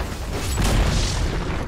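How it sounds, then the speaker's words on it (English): Dota 2 middle tower of the Dire side collapsing: a dense, booming rumble with crumbling debris that swells and then holds steady across the short moment, loud and close. "Dire's middle tower has fallen."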